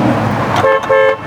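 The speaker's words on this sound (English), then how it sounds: "Now I'd like to do the horn test." A 2018 Tesla Model 3 Performance horn honks twice in quick succession, two short loud toots following a brief stretch of background noise.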